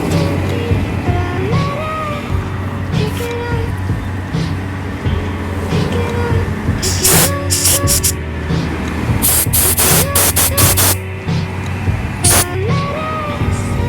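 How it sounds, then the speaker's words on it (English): Compressed air from an air compressor blows through the small holes of a Kawasaki 750 SXi/SXR 800 jet ski carburetor. Steady background hiss and hum give way to a cluster of sharp, loud air bursts in the second half. "we're gonna get an air compressor. We're gonna blow through all these small holes."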